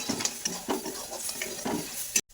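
Bottle gourd sautéing in a pan with sugar, coriander powder, sesame paste and fried lentils, a soft sizzle under brisk stirring and occasional spatula scrapes, close up, ending abruptly.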